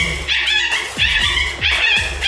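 Dogs yip and bark repeatedly at an open-air pet market, loud bursts recurring in a steady rhythm with whiny high-pitched tones and no talk over them.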